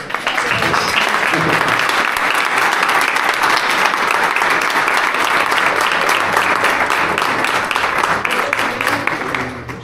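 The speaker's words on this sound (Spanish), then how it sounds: "yo pediría una aplauso para Manuel" Conference audience at a Camino de Santiago lecture series in Uclés gives prolonged applause, a dense, even clatter of many hands clapping at steady volume for several seconds.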